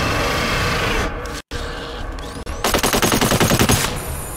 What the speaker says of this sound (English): I just wasted a whole mag on him.